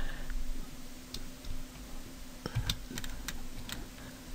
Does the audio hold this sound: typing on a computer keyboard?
yes